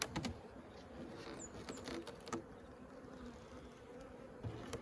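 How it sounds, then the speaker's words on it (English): Honey bees buzzing around a late-season ranch hive with an open screen bottom board, close and fairly quiet. A continuous drone carries occasional individual bees passing nearer, and there is no talk. "And I see a little bee there."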